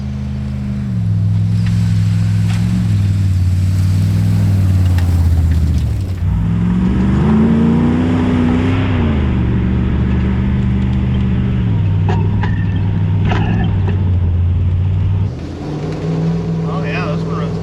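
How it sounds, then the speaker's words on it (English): A Ford Bronco fitted with a suspension kit drives along, its engine holding a steady low drone that rises and falls as it changes speed, loud and close throughout. "now we're going to drive to Stage 4"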